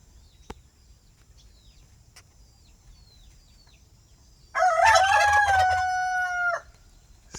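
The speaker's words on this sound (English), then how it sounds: "Rooster, chicken, crow, turkey, gobble sounds." A single rooster crows once, loud and close, a long wavering call lasting about two seconds after a quiet stretch with faint background noise.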